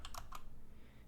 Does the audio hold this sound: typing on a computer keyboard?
yes